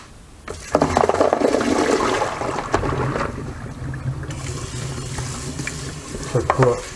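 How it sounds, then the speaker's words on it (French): Water splashes and pours into a basin as olives are rinsed, a rushing burst at first and then lighter sloshing and swirling, with a few clunks near the end. "Maintenant je vais les rincer et remplir d'eau."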